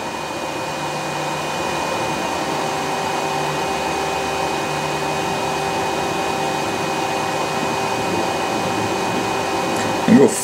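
A Raise3D N1 3D printer runs a torture test print, giving a steady, continuous mechanical whir with a constant fan-like hum and faint tonal whine, ending with a brief clunk.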